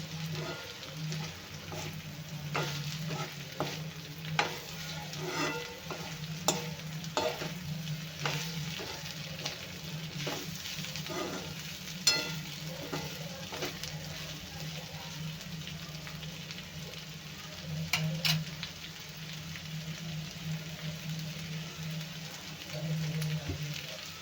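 Round-cut bitter gourd slices being stirred into a frying paste, a low steady sizzle with scattered spoon scrapes and taps against the pan, fairly quiet and close, with no talking.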